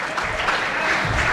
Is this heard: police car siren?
no